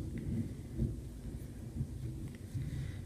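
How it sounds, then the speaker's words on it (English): Low, distant thunder rumbles steadily over a soft wash of rain, with no clear peaks, just a continuous muffled roll. "But yeah, it's really thundering."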